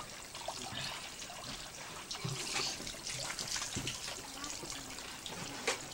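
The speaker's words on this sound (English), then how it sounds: "He's filling up his water gun." Water running from a tap to fill a toy water gun, a steady faint trickle with small splashes and drips, heard up close.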